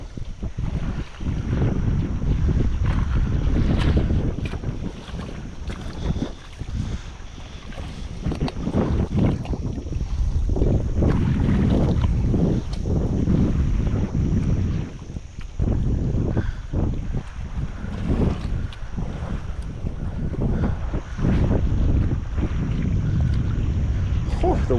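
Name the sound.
wind blowing outdoors on a fishing boat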